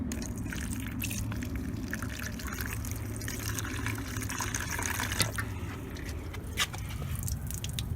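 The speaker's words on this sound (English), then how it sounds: "and just kind of pour it down the drain and see." Water trickles and drips steadily down the body drain hole of a 1989-2005 Mazda Miata MX-5, a continuous faint flow with occasional small splashes.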